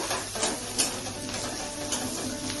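Onions frying in a pan in a home kitchen after cumin, coriander and fenugreek seeds, a steady bright sizzle with occasional soft clicks and stirring scrapes, no talking.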